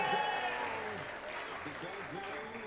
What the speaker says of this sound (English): Can we get a round of applause for our track maintenance?